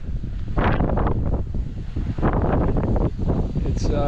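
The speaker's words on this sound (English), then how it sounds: "It's really windy. And it's blowing all this dirt all over the place." Strong wind gusts roar steadily across open desert ground in Valley of the Gods, Utah, buffeting the microphone and blowing dirt around, with a dense, unbroken rumble throughout.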